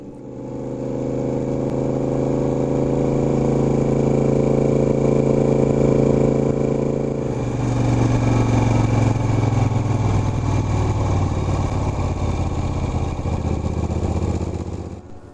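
A 50-year-old Moto Guzzi motorcycle pulls up steep mountain slopes with a loud, steady engine drone, the pitch shifting midway as the rider changes gear and keeps climbing; no voices.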